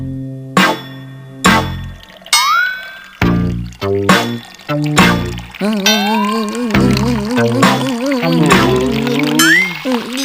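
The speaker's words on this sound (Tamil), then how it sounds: "நீயே வந்து இந்த கிளாஸ்ல ஊத்துவா" Juice pours from a bottle into a glass in a Tamil-dubbed Shinchan cartoon, liquid gurgling in bursts between tonal sound effects and rising musical cues.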